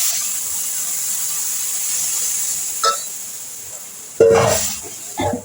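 Ingredients, including boiled field beans, sizzle and hiss steadily in a hot pan, close up, with a few sharper scraping stirs toward the end.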